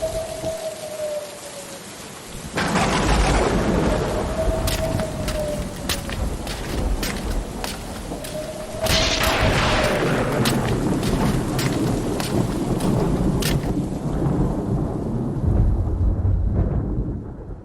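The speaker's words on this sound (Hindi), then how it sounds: "बादल गरज रहा है, अभी शायद बारिश भी होने लगी।" Thunder rumbles at night over heavy, steady rainfall, with loud rolling bursts breaking in repeatedly above the constant hiss of rain.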